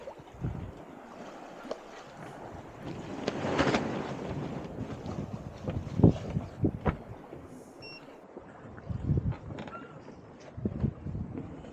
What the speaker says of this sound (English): now there's a nice breeze